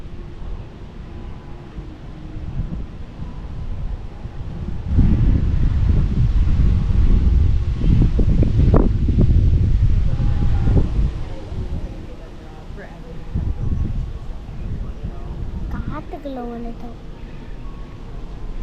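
Strong wind buffets the microphone on a sky bridge running from Mackinaw to Boyne Mountain, a low gusty rumble that surges loudest midway, eases, then swells again, with a few faint voices and scattered background sounds.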